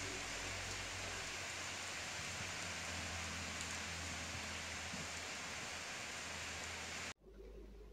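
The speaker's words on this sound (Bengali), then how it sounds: "কিন্তু সারাক্ষণই বৃষ্টি থাকে" Steady rain falls on a village in rural Bengal as a dense, constant hiss that fills the scene at an even level and then cuts off abruptly near the end.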